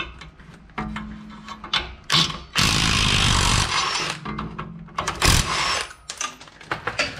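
An impact wrench removes old U-bolts during a rear leveling kit install on a truck: several loud, close, rattling hammering bursts, one longer than the rest, separated by quieter gaps of shuffling and clanking.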